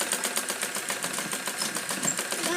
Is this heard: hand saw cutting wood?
no